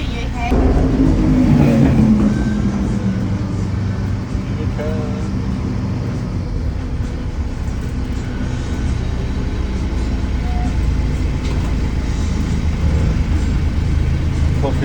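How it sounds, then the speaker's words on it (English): Dense London street traffic rolls past a vintage Routemaster tour bus, a steady engine and road rumble with a passing vehicle swelling early on, with a voice talking over it throughout. "Of course we are in the London traffic."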